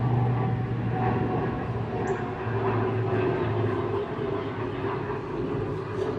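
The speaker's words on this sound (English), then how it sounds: "plane going overhead now." A steady, distant roar of an airplane passing overhead, a broad rumbling drone that holds fairly even throughout with no talking.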